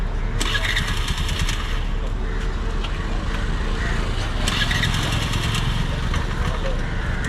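A motorcycle engine cranks and sputters to life at a fort in Sri Lanka, with sharp bursts of revving over a loud, steady mechanical rumble close by.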